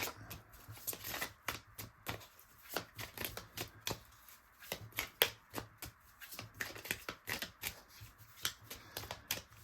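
Oracle cards being shuffled close up, a quiet run of crisp flicks and riffles in an irregular rhythm, with no talking.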